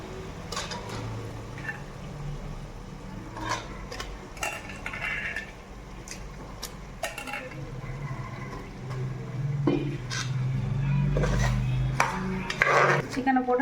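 Chicken pieces are stirred through ginger and garlic in a pot, with a metal spoon scraping and clinking against the sides in irregular bursts over a low cooking hiss.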